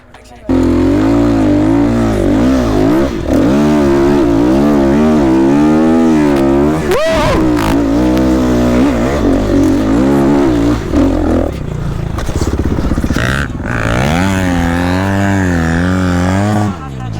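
Enduro motorcycle revving hard in second gear while climbing a slope at an off-road training camp, a loud continuous engine drone with rising and falling pitch that runs almost the whole time, with shouted instruction over it.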